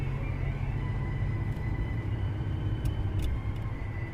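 A car's engine and road noise while driving a mountain road from Nainital to Kasiyalekh, a steady, fairly loud rumble that stays constant throughout, with no talking.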